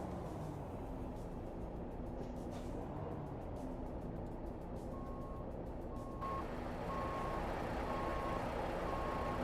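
Steady reversing beeps from a truck in American Truck Simulator, a regular pulsing tone repeating through the second half over a constant engine rumble, with no talking.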